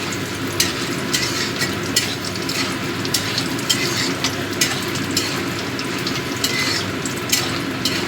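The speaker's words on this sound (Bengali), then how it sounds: "বড়িগুলো লাল লাল করে ভেজে নেব" Lentil dumplings (bori) fry in hot oil with a loud, constant crackling sizzle and recurring sharp stirring clinks, close up and without speech.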